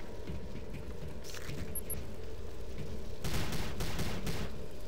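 Gunfire in the Prey video game, a faint dense patter of rapid shots running steadily throughout, growing a little louder and busier toward the end.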